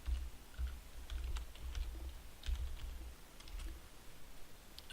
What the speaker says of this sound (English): go to Google and type out NZGrapher